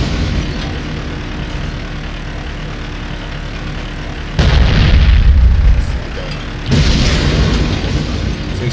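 An ARL-44 tank driving in Garry's Mod: a steady low engine drone throughout, swelling into two louder rumbling surges as it accelerates, heard up close with no talk.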